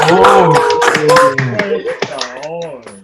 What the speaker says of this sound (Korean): 박수랑 환호를 좀 크게 한번 하셔야 될 것 같습니다